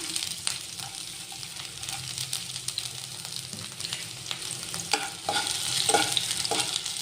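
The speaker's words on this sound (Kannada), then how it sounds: "ಒಂದು 10 ಸೆಕೆಂಡ್ ಫ್ರೈ ಆಗಲಿ" Ginger and garlic frying in about three spoons of hot oil, a bright continuous crackling sizzle with occasional sharp pops and stirring scrapes, close and loud with no talking.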